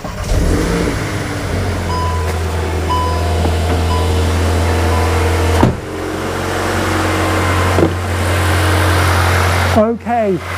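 A Volkswagen engine runs at a steady, loud idle during an oil-change service, with a constant low drone, a couple of brief knocks and a short engine-note wobble near the end.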